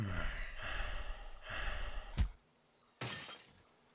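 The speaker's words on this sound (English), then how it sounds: "as he's smashing a bottle over a man's head, that's normal" A glass bottle is smashed over a man's head during a fistfight in a wartime farming simulation game: a sharp, loud shatter follows scuffling grunts and breaths, and a second crash-like burst comes a moment later.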